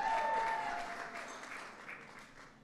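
A crowd applauds at a State of the Union address, loud at first and then tapering off over a few seconds.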